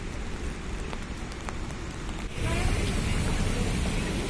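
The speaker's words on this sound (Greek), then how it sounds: "Βρέχει, όπως ίσως μπορείτε να ακούσετε" Rain falls in the city of Thessaloniki as a dense, steady hiss of drops on surfaces, heavier and louder in the second half, with no clear talk over it.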